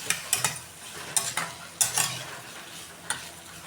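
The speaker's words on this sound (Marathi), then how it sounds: "सर्व लिंबाच्या फोडी याच्यामध्ये टाकून घेऊया, परत मिक्स करून घेऊ" Bitter gourd stir-fry with small lemon pieces is tossed in a pan: a few sharp scraping stirs and clatters over a faint, soft sizzle, close and alone.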